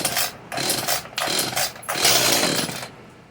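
An Echo CS-440 chainsaw fresh from a carburetor and fuel line repair kit install roars at full throttle, its engine revving loud and close in several surging bursts with brief dips between.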